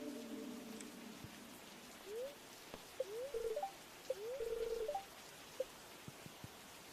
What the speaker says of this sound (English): It appears to be a heavier rain